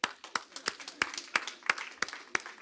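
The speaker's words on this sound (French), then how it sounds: "Si vous êtes là, applaudissez." Church congregation applauding, heard as sparse, evenly spaced claps of a few hands in a steady beat, fairly faint and somewhat distant, with a voice faintly underneath.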